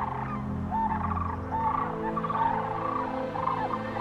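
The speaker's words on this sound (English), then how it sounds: "400 million birds take to the skies over the heartland and head south." Migrating birds in the American heartland in late September, a flock giving repeated honking, gobbling calls in regular bursts, close and clear over a low steady rumble.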